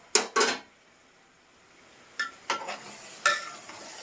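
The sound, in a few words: tamarind juice added to curry cooking with tomato pieces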